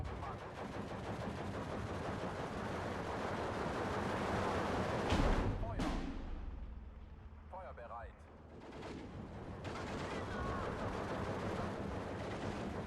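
Mortar and gunfire in the Steel Division 2 video game, a steady clatter of battle noise with a heavy blast around the midpoint, then a quieter stretch before the firing resumes.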